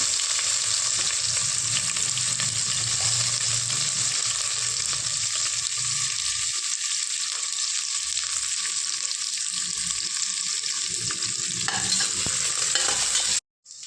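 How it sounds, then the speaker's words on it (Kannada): Onions frying in about four spoons of oil in a home kitchen pan for vegetable pulao, a steady loud sizzle with occasional stirring that runs unbroken for most of the stretch and cuts off abruptly just before the end. "ಒಂದು 4 ಸ್ಪೂನು ಎಣ್ಣೆ ಹಾಕಿದ್ದೀನಿ. ಇದಕ್ಕೆ ಒಂದೆರಡು ಈರುಳ್ಳಿ,"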